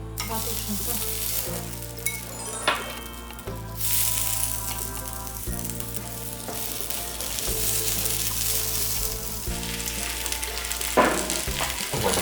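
Potato pancake of shredded potato sizzling in a waffle pan, a steady close frying crackle throughout with occasional scraping stirs and faint background music.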